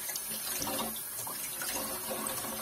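Running tap water splashes steadily as a sponge rinses an air fryer basket (Iceagle KDF-562D) in a sink, a continuous close wash with no talk.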